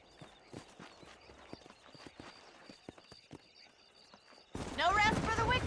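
Horse hooves clip-clop steadily across dirt near Armadillo in the Red Dead Redemption video game, a quiet rhythmic trot that gives way to someone talking over it.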